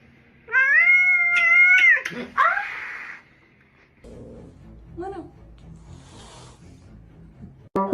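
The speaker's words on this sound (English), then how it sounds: "the cat is still letting me know that's her man" A cat lets out a loud, drawn-out rising meow that turns into a wavering caterwaul, then gives shorter yowls amid household noise and brief voices nearby.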